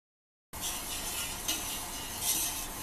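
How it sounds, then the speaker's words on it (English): Sugar booster stirred into beer wort for a pale ale: a quiet, steady liquid swishing with faint clinks, starting abruptly after a brief silence and continuing close up without talk. "I kind of stir it as I go so that it doesn't"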